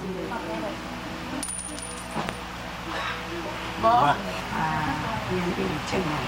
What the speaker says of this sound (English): Okay, now toss coins.